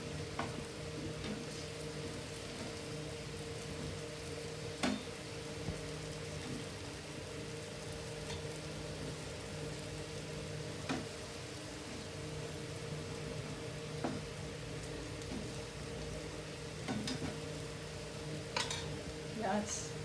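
Yam slices fry in a little oil, giving a steady, fine sizzle close by for the whole stretch, broken by a few small clicks and clinks of a utensil against the pan.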